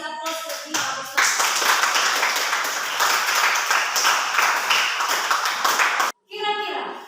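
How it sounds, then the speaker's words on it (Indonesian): Classroom applause for a group of students who just finished their discussion, many hands clapping loudly and steadily for about five seconds before it stops abruptly, with brief voices around it. "kita kasih aplaus lebih besar."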